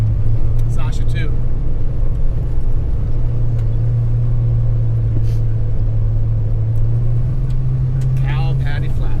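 A Kawasaki Ridge XR side-by-side rumbles steadily while driving on a trail, a loud, constant low engine drone throughout, with brief faint rattles and wind noise above it.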